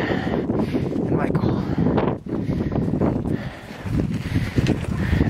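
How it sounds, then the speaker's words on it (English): Strong wind on Mount Fuji near the ninth station at night roars and buffets continuously, rising and falling in gusts with a rough, blustery texture. "It's windy."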